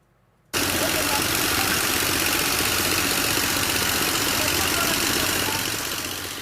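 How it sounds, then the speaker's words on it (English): Heavy excavator engines rumble steadily and loudly after a brief quiet start, a continuous low mechanical drone with knocking texture, draining a mining pit. "That's the sound of excavators being used to help drain a mining pit"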